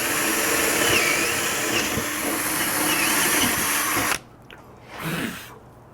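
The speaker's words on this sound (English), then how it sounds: "So I'm gonna drill some start and finish holes here." A power drill bores start and finish holes in an arcade cabinet panel, a steady loud whir running about four seconds before cutting off, followed by a brief fainter burst.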